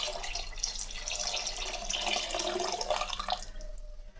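Mutton cooking water poured into a biryani pot of seeraga samba rice, a steady close splashing stream for about four seconds that stops abruptly.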